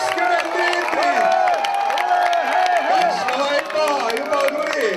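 Crowd noise at an outdoor strongman competition by a lake, with people cheering and clapping, and some clapping for an athlete after his attempt. A commentator's voice runs steadily over the continuous crowd murmur.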